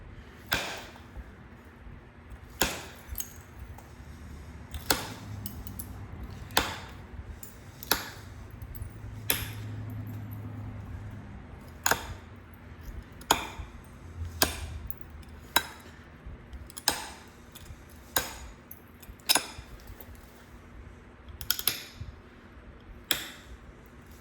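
Notch being knapped into a large Flint River Chert blade: about seventeen sharp, glassy ticks and clinks, spaced a second or two apart at an uneven pace, quiet and close, with no talk.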